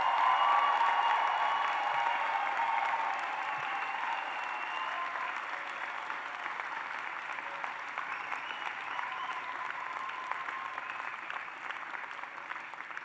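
Sustained applause from a large audience at the 2026 Chicago-Kent College of Law commencement ceremony, loud at first, then easing to a steady, dense clapping that continues throughout.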